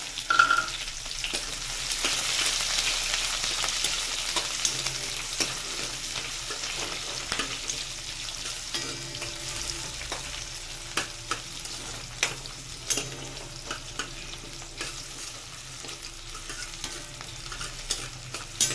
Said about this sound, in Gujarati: આપણે ડુંગળી એડ કરીશું. ડુંગળી થોડી મોટી જ સમારવાની